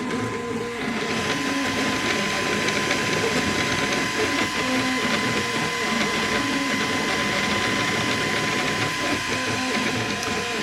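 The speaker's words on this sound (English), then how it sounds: "We're printing the ornaments for the little Christmas tree." A 3D printer printing small Christmas tree ornaments runs with a steady mechanical whir and faint stepping rattles, continuous and close at fairly constant loudness.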